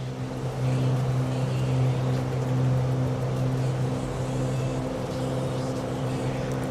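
An aircraft engine powers up on a low approach in Microsoft Flight Simulator 2020, a steady droning hum with a strong low tone rising slightly in level and holding constant throughout.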